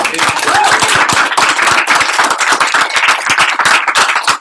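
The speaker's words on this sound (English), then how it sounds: "So can we give them an FC round of applause?" A meeting audience gives a round of applause, loud close clapping with individual hand claps clearly separated in a brisk, uneven rhythm, as if a smaller group near the front.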